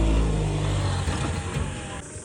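An auto rickshaw driven along a road, its engine droning steadily and close, with a strong low rumble at the start easing into a continuous mid-level hum.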